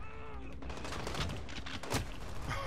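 Shotgun blasts in Call of Duty: Modern Warfare during a multiplayer match, heavy booming shots mixed with game chatter and a sharp loud report near the end.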